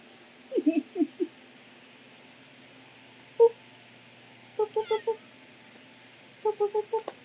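Indoor cat meowing in short clusters of three or four quick mews, separated by quiet pauses, fairly close and soft, with a single longer mew in the middle.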